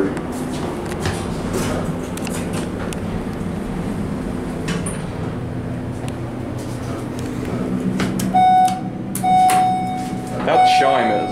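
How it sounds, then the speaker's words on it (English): A U.S. hydraulic elevator in Goldsboro, North Carolina sounds a clear electronic chime near the end of the ride, several bright tones over the motor hum, with someone talking nearby. "That chime is"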